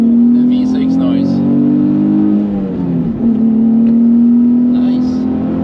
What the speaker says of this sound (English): The V6 noise.